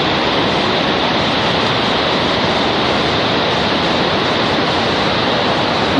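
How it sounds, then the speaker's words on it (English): Loud, continuous rush of river water whirling down over smooth rocks in Iceland, a dense unbroken roar with no voices. "as you go on you can see the water whirling away"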